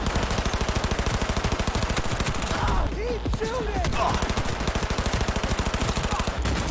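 Rapid, evenly spaced pistol shots from Cyberpunk 2077 combat, loud and close, firing almost nonstop with a short break in the middle.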